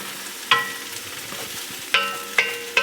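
Jasmine rice browning in a hot pan gives a steady close sizzle, broken by four sharp scraping stirs of a utensil against the pan, with no talking.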